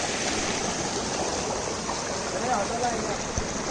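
Water flowing in a forest stream near Medha Waterfall in Songadh, a constant broadband rushing wash that stays steady and close for the whole stretch.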